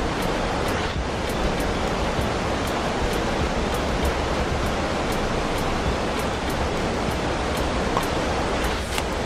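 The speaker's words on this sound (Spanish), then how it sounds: "solo el agua y el sonido de la naturaleza" Fast-flowing river water in San Cipriano, Colombia rushes in a dense, steady broadband roar, continuous and close with no voices.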